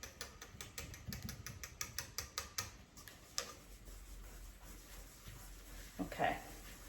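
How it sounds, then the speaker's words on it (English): A spoon stirring dry gingerbread scone dough in a bowl, giving a run of rhythmic soft ticking scrapes that fade after a few seconds. "let's get this all stirred up. And it's gonna seem dry, but that's the way it's supposed to be"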